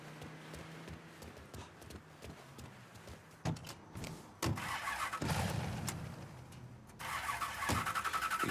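Car engine in the video game Mafia III cranking and catching after a few clunks and door sounds, then settling into a steady, fairly loud idle with a brief rev.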